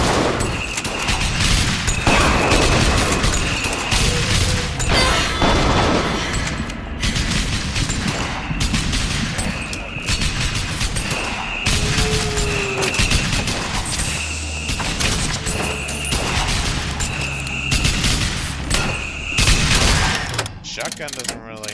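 Shotgun fire in BioShock Infinite Burial at Sea comes as repeated loud blasts mixed with mechanical clicking and ratcheting game sounds, all dense and continuous.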